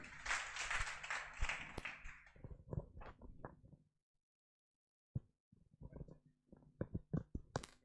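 Applause from an audience at a Teacher's Day celebration function, a burst of clapping that fades out into a pause, followed by scattered claps and taps starting up again.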